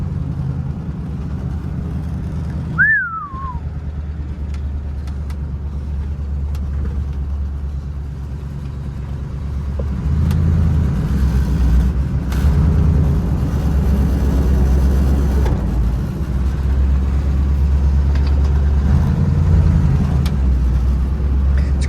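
A 1947 Ford car drives steadily with a loud, continuous low engine drone and road rumble from inside the cabin, the engine note swelling slightly partway through.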